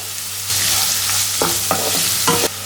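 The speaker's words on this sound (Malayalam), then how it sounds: "വീണ്ടും ഇളക്കി കൊടുക്കാം." Chopped onion and chili sizzle steadily in a hot pan for a cheese masala dosa filling, with a few distinct scraping strokes of a spoon stirring through them, no talking.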